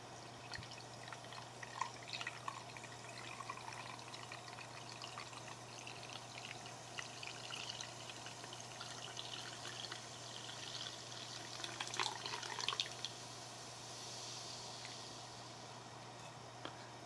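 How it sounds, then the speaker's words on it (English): Organic cider being poured, a soft, continuous liquid trickle and fizz close to the microphone, quiet over a low steady hum. "Let's go and pour some of this."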